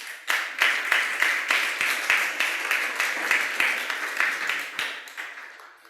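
A church congregation claps for the Lord in a steady rhythmic unison beat, loud and even pulses repeating for several seconds before trailing off.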